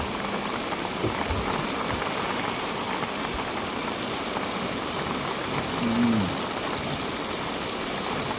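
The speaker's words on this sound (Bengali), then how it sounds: "কি বৃষ্টি হওয়া হচ্ছে রে" Heavy rain pours steadily over a coastal area, a dense, even hiss of drops hitting surfaces that runs unbroken throughout, with a brief low murmur partway through.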